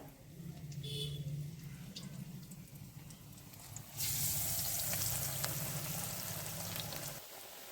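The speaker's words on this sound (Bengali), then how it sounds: "কত সুন্দর লাল লাল ভাবে আমি এগুলোকে ভেজে নিলাম" Elephant foot yam leaf pakoras frying in oil, a continuous close sizzle and bubbling that swells louder midway and carries on to the end, no speech.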